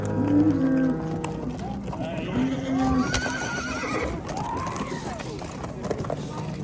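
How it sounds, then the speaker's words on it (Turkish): A horse whinnies loudly at a livestock horse market, its rising and falling neigh standing out amid a busy crowd of talking voices and general market bustle. "Bunda Kökbel'in atı"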